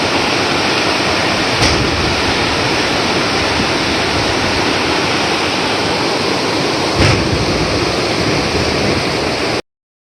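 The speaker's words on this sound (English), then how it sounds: "Another waterfall caused from the runoff." Steady broadband roar of a mountain waterfall fed by runoff, heard from a bridge on a hiking trail toward Humantay Lake, loud and continuous with no voices.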